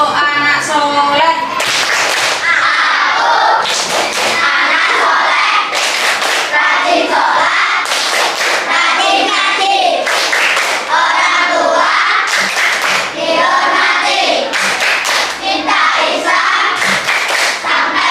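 A class of children in an Indonesian classroom perform the 'tepuk anak soleh' clapping chant, rhythmic bursts of group clapping alternating with loud chanted voices in a repeating pattern.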